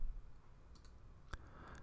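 Mouse clicks on a computer while operating a drop-down menu in the Capture.U Desktop software: two or three faint, sharp clicks spaced apart in an otherwise quiet room, with no talking.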